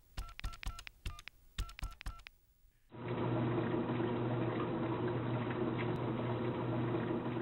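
Telephone dialing to a poison control center: two quick bursts of touch-tone beeps in separate groups, then a sudden switch to a loud, steady rushing wash that continues to the end.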